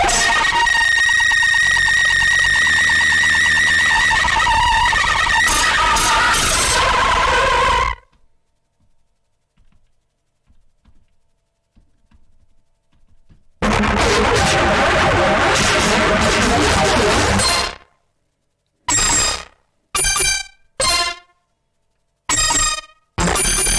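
A Behringer Pro VS Mini synth runs through two fuzz pedals, producing loud, harsh, distorted noise with screeching tones, cut by a long silent gap and then short stuttering bursts.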